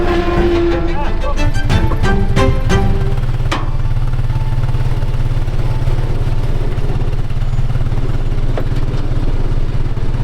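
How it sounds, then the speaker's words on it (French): A Can-Am quad engine runs steadily and loudly while pulling a pipe on a farm, with a constant mid-low drone after a few clattering knocks at the start. "Et là objectif, le tirer avec le quad."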